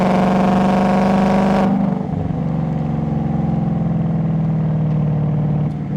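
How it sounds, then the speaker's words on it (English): A loud, deep Ford Mustang active exhaust drone in sport mode, dropping abruptly from a high rev to a steady, rumbling idle, close by. "right now I'm running that exhaust in sport mode"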